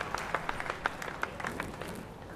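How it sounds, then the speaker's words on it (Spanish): Crowd applause for the boxers Ezequiel Maderna and Tommy Oosthuizen after a 12-round IBO super middleweight world title fight, fairly quiet and distant, with scattered sharper individual claps over a steady patter. "I think a nice big round of applause for Ezequiel Maderna, Tommy Oosthuizen."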